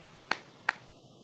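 Sharp hand claps from children during a classroom clapping-focus game, two crisp separate claps about a third of a second apart over a quiet room, with no talk.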